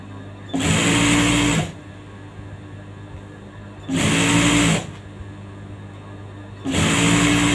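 A sewing machine stitches the lining of a top's sleeve, with three separate runs of fast whirring stitching, each about one to one and a half seconds long, separated by quiet pauses.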